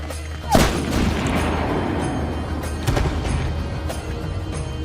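Gunfire and explosions in Medal of Honor: Warfighter: a sharp boom opens a dense, loud roar of battle, with a second blast a couple of seconds later and scattered shots throughout.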